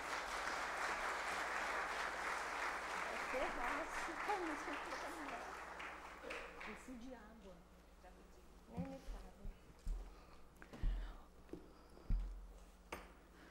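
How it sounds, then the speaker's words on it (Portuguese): Applause from the audience at a formal graduation ceremony fills the first half, full and steady before thinning away, and then scattered thumps and small knocks take over in a quiet hall. "Salva de palmas."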